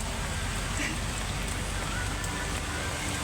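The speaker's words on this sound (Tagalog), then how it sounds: "Ulan lang ng ulan, hinay na." Steady rain falling close by in Mindanao, a continuous soft hiss with scattered drops landing on a surface.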